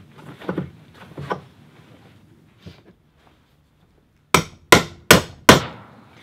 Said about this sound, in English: we're gonna see if we can break this, crush some wood, see what happens